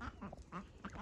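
A green-headed drake duck gives a few soft chirping, froglike calls in quick succession, close and fairly quiet with no talk over them.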